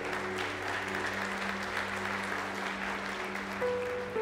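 A church congregation applauds, a soft, steady wash of many hands clapping from a distance, sustained evenly throughout with a faint hum underneath.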